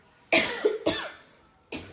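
Three sharp, close coughs from one person come in quick succession, the first two nearly back to back and a third after a short pause, in an otherwise quiet room.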